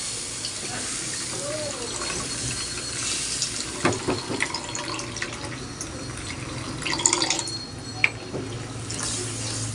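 Evaporated milk pours into a white sauce, giving a steady liquid trickle close by, with a few clinks and handling noises in a kitchen.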